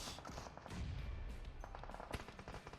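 Gunfire in PUBG, a dense run of rapid shots and bursts from several weapons, quiet and distant, with sharper cracks near the end.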